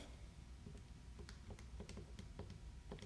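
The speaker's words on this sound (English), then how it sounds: "hear the clicking of calculators in the background" Faint, quick clicking of keys taps out an irregular rhythm over a low background hum, quiet and somewhat distant.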